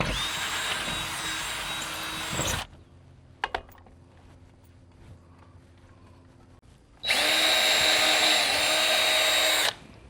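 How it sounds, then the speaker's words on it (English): A power drill bores a hole into wood in two loud, close, sustained bursts separated by a quiet pause with small clicks and faint handling noise. "and we're gonna go up and drill a hole"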